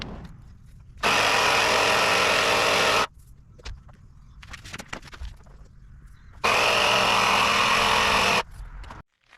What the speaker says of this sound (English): we're going to top up the air in both tires